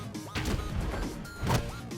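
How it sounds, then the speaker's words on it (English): A cartoon-style boxing glove arrow strikes in an animated Green Arrow versus Hawkeye battle: two loud, crunchy smash impacts about a second apart, each with a brief noisy tail. "You should hear the boxing glove arrow when it hits. It makes this kind of sound."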